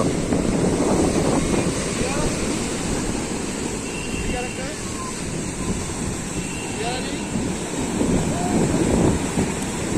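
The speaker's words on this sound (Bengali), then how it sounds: "ঢেউ কিন্তু কম কিন্তু জলের উচ্চতা কিন্তু রয়েছে" Sea waves wash onto the shore at Old Digha beach, India, on a rainy day in a continuous rushing roar, with wind buffeting the microphone throughout.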